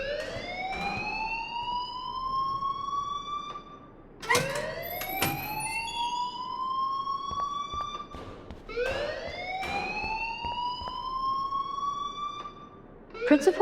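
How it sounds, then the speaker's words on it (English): An electronic alarm blares inside a school building in the video game Life is Strange, with rising siren-like sweeps that repeat every few seconds, loud and continuous throughout. "please turn off that alarm since that's your job"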